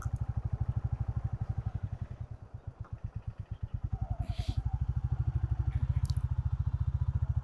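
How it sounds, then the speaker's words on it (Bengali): Motorcycles at temple grounds beside the Kangsabati river in Pathra produce a loud, close engine with a fast rhythmic thrum that dips briefly and then steadies. Faint clatter sits in the background, and no one speaks. "এই যে বেলা বাড়তেই এখানে ভিড় লেগে গেছে বাইকের, অনেকে এসছে।"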